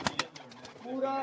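Golden and kamgar pigeons coo softly in a loft, a couple of quick rustles or wing flaps first, then a low, throaty rolling coo rising near the end, faint and close.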